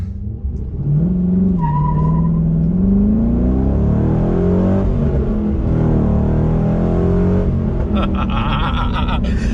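A Chevrolet SS engine revs hard and climbs in pitch as the car accelerates, with a rising whine and a shift partway through, loud and close.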